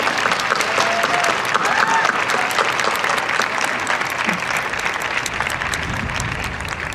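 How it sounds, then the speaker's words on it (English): Sustained audience applause at a school ceremony honoring a graduating class, a dense, steady wash of many hands clapping that fills the whole stretch at an even level with a faint crowd murmur beneath. "Let's give them a round of applause."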